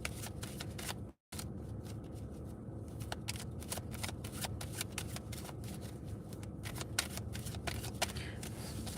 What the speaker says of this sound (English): Something tells me they want me to shuffle the other way.